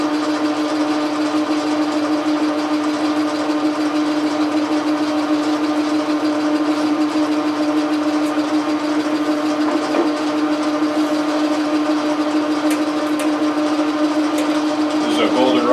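A metal lathe turns a declination shaft on a coarse cut, giving a steady, unbroken mechanical drone with a constant hum and faint ticks, loud and close with no voices over it.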